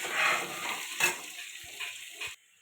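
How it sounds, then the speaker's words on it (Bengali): Potato pieces with turmeric and salt fry in hot oil, a close bright sizzle that starts strong and slowly thins, with a few light knocks of a spoon against the pan before it cuts off. "দিয়ে ভেজে নেবো আলুটা ভালো করে"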